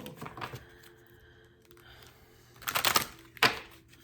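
Tarot cards riffle and flutter in a few quick bursts, with a soft crackling shuffle near the end, over quiet room background.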